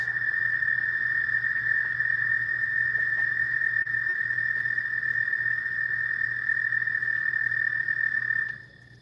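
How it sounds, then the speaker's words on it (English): Frogs calling at night near an abandoned coliseum: a continuous high, shrill trilling chorus holds steady throughout, over a low background hum, then drops away abruptly at the end. "listen to these frogs sing to us"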